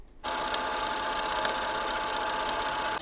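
A sewing machine stitches half square triangles for a sawtooth star quilt block, starting abruptly after a brief pause and then running in a fast, even mechanical whir of needle strokes, close and steady throughout.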